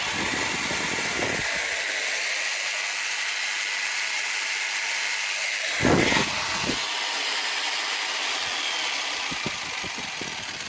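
A battery-powered saw cuts through wood, a steady close, loud motor whine running throughout with a brief surge and a few quick bursts near the end.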